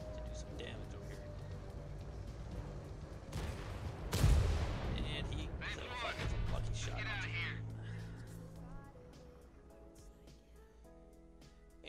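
An IS-7 heavy tank in a video game fires explosive rounds, one loud booming blast followed by rumbling and scattered battle noise, while a commentator talks throughout.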